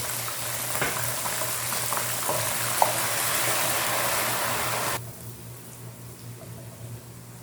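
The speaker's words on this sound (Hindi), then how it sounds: "हम इसमें थोड़ा सा पानी डालेंगे।" Water poured into a pan of browned onions for daal maash sets off a loud, steady hissing sizzle close by, which drops abruptly to a softer bubbling simmer partway through.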